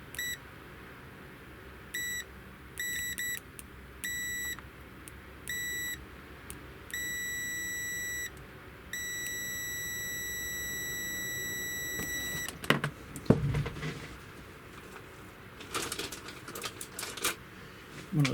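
An Owon HDS2102S handheld oscilloscope-multimeter in continuity test mode gives a series of clear electronic beeps, some short and some held for a second or more, followed by clicks and handling clatter near the end.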